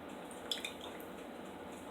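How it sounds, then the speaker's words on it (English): Buttermilk poured into a well in a flour mixture for cat head biscuits: a soft, steady liquid trickle with a couple of small drips, faint and alone. "Pour in my buttermilk."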